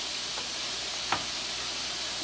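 Onions caramelizing in a pan give a steady, soft sizzle and hiss, with a single brief knock partway through.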